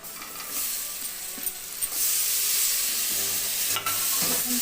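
Tomatoes are stirred into onions frying with Kashmiri chili powder for a fish and prawn mahura curry, giving a steady close sizzle with scraping stirs throughout and no talk.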